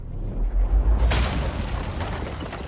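A grenade explodes in Warhammer 40,000: Chaos Gate - Daemonhunters, a single deep boom with a heavy low rumble that rolls briefly into a fading tail.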